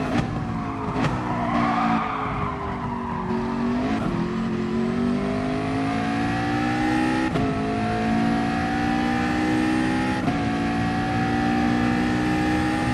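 A McLaren race car in a racing video game holds a steady, loud engine drone that climbs in pitch, then drops sharply at each gear change, repeating through several shifts with a faint tire-squeal edge. No one speaks.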